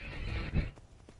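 A horse in Skyrim whinnies loudly and close, a rising, shaky neigh with a snort toward the end and faint hoof clops behind it.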